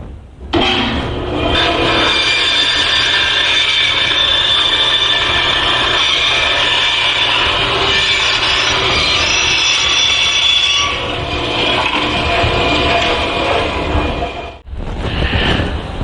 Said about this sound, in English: I finished on the bandsaw